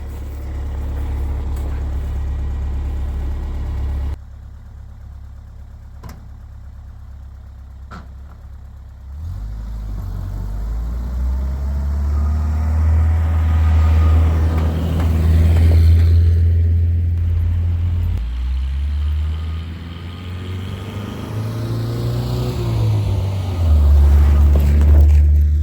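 An old International Scout rumbles along a snowy driveway at night, its engine droning loud and steady with low idling stretches that build into revving pulls, with no talk over it.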